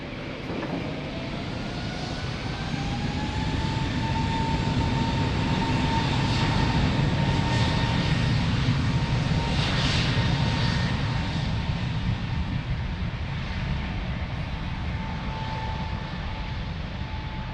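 Airliner jet engines during takeoff at Lisbon Airport: a loud, continuous roar with a rising whine that holds steady across the whole stretch, heard alone without voices.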